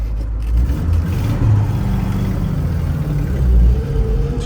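A 1967 Chevrolet K10 Suburban with its original engine drives along, a loud steady low rumble with mild rises in revs from inside the cab.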